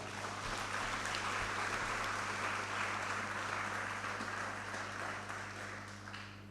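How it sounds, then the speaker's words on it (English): An auditorium crowd at a college fest claps in a steady, dense round of applause that fills the hall at moderate loudness over a low electrical hum, slowly fading toward the end. "Give him a big round of applause,"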